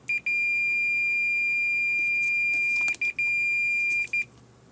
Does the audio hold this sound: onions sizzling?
no